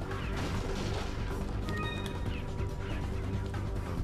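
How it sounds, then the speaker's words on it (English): Glass shattering in the video game Resident Evil 4, a bright crash with tinkling shards heard under a busy, continuous game soundscape of background effects and music. "Break some glass."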